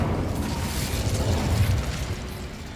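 Incendio fire spell cast during Hogwarts Legacy combat, a loud continuous roaring rush of flame with rumbling bursts and crackle, sustained throughout without pause.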